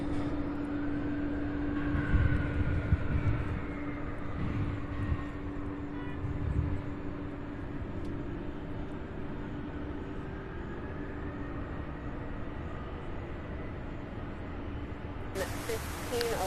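MD-11 aircraft at Louisville International Airport near the UPS Worldport, a steady distant jet rumble with a low tonal hum running throughout, while a person talks over it.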